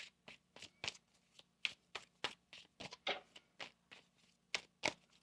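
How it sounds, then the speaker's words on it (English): A tarot deck being shuffled by hand in a quiet room: a series of crisp, papery riffles and taps in irregular bursts, about a dozen in quick succession, close and alone. "One more shuffle."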